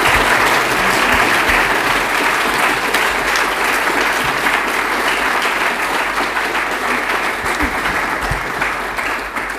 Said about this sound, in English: Please give a big round of applause to the brass quartet of the orchestra